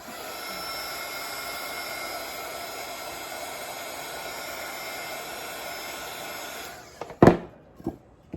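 A heat gun warms vinyl on a tumbler with a steady whirring hiss for about seven seconds. It then cuts off, followed by a couple of sharp knocks and handling noises.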